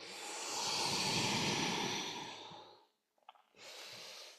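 Deep, slow breathing during a yoga exercise: a long, loud breath lasting nearly three seconds, a short pause with a faint catch, then another strong breath starting, close and alone without talk.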